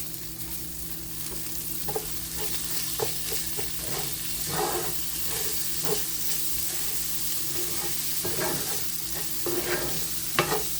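Rice and frozen peas sizzle and crackle steadily in a hot pan while being stirred, with scattered louder scrapes and pops over a constant frying hiss.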